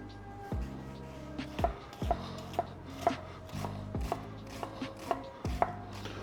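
A knife chops half an onion on a cutting board for wonton soup, about a dozen crisp, close thuds falling in a steady, unhurried rhythm with no talking.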